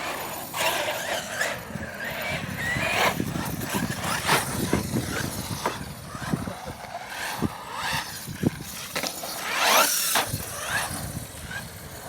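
Two RC buggies, an FTX Carnage and an HPI Trophy Flux, run around a skate park, their motors whining and tyres rattling and scraping across concrete in a busy, continuous clatter with sharp knocks and bumps throughout.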